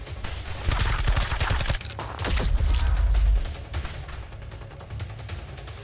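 Gunfire from the tactical video game Reverse Collapse: dense, overlapping bursts and volleys of shots with heavy low thumps, loud and continuous, swelling twice before easing into scattered reports.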